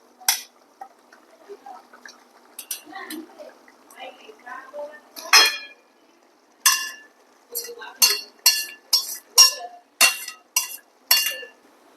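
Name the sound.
stirring cooked Maggi noodles and masala together in a pan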